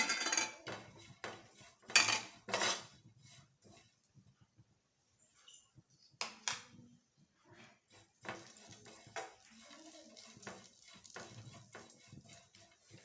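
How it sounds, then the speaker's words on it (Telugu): Dry coconut roasted and stirred in a metal pan, with intermittent scraping clinks of a utensil against the pan in short bursts and pauses, fairly quiet. "ఎండు కొబ్బరి కొంచెం కలర్ చేంజ్ అయ్యేంత వరకు వేయించుకోవాలి"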